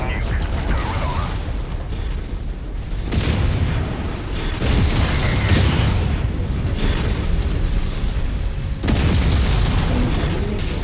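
A nuke detonates in a video game: deep, rumbling booms and explosive bursts roll through in several heavy waves. Game radio voices speak over the blasts.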